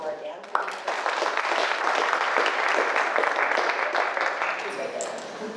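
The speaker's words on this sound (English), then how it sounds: "let's give a round of applause for Dan" Steady applause from an audience fills the room, dense and sustained, with a sharp onset and continuous clapping throughout.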